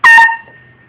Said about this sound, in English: McDonald's air horn experiment.